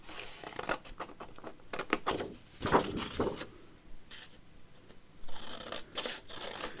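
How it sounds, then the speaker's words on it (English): Scissors cut through Stamperia mixed media art paper with a series of close, crisp snipping and rustling strokes, pausing briefly before a final run of cuts. "So let's cut it off about there."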